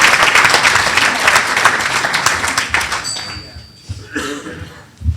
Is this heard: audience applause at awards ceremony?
yes